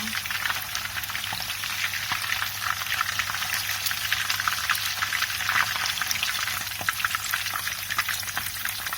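Fish frying in hot oil for a fish salan, a dense, continuous crackling sizzle held at steady loudness throughout, close and with no talk.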